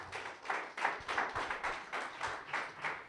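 A church congregation claps together in a quick, steady rhythm, a bit over two claps a second, sounding soft and somewhat distant in the room with no voices over it.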